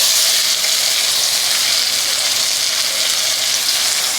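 Ginger, garlic and onions frying in a pot for an aloo gobi, a loud, dense, steady sizzle like rushing water that holds evenly throughout with no voices.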